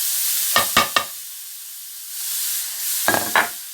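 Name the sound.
zucchini added to a pan of hot olive oil, sizzling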